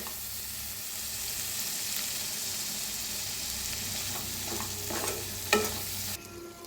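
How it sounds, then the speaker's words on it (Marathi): Yogurt stirred into a sizzling fried chili masala in a pan, a steady frying hiss with a spoon scraping and clacking close by, growing busier near the end before the sizzle drops away. "आता दही टाकले, मिक्स करून घेऊया।"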